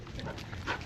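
A dog makes a brief, close vocal sound, a short bark-like yelp lasting under a second, heard alone.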